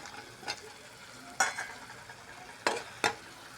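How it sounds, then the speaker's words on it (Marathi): Potatoes stirred into a frying onion masala, a low constant sizzle close by punctuated by four sharp scraping stirs of a spoon against the pan. "आपण आता त्याच्यात बटाटे टाकू।"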